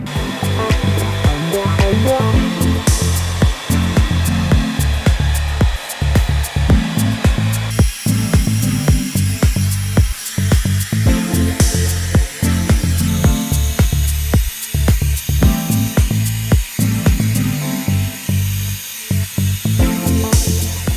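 A hair dryer blows continuously at close range while drying hair for an undercut style, a loud steady whir broken by frequent quick dips and bursts as the airflow shifts, with no talking.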